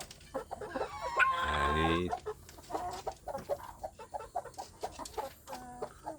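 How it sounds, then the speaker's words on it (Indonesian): Free-range village chickens, including brooding hens, cluck near a coop. A loud drawn-out squawk comes first, then a steady run of short, quiet clucks. "beberapa ayam yang sedang mengerami ya"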